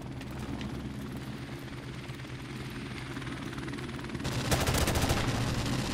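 Friendly helicopter arriving in Call of Duty Modern Warfare Remastered during a Team Deathmatch on the Crossfire map, a steady rotor drone that swells louder near the end amid scattered gunfire and game noise.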